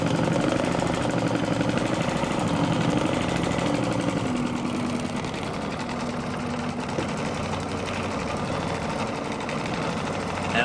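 An embroidery machine sews out a quilted luggage tag with a continuous, close mechanical whir and a fast rhythmic needle chatter that runs unbroken throughout.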